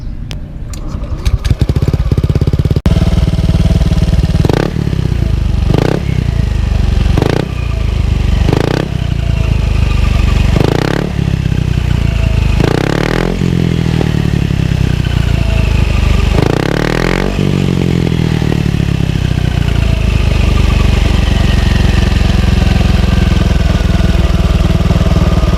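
A Yamaha MT8 motorcycle fitted with a racing exhaust pipe starts up and runs loud and close, with a series of sharp throttle blips over a deep, rumbling idle and no talking.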